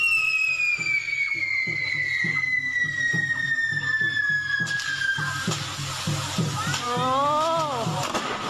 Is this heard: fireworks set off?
yes